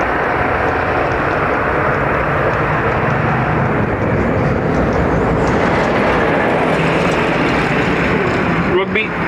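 A jet aircraft landing at Dublin Airport produces a loud, continuous roar that holds steady close by, with voices talking over it.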